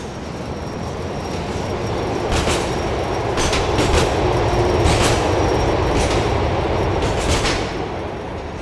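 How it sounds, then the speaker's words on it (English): In the video game GTA 4, a train rumbles past loudly with a steady roar, while a metal fence rattles and clanks in bursts nearby, fading slightly at the end. "we can actually hear a characteristic metallic rattling, which will stop as the train moves away"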